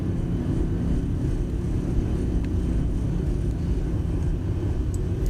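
An airliner rolls down the runway with thrust reversers deployed in the X-Plane 11 flight simulator, a heavy, continuous low rumble and roar that stays loud and steady throughout.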